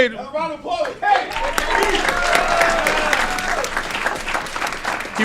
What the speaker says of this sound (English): Another round of applause for Kate.